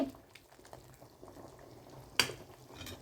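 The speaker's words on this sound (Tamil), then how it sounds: "குழம்பு நல்லா இப்போ கொதித்து ஓரளவுக்கு நல்லா எண்ணெய் பிரிஞ்சிற அளவுக்கு வந்துருச்சு" Dried fish curry simmering in a pot on a stove, giving a soft, steady bubbling with small pops and one sharper splutter near the end, faint and close.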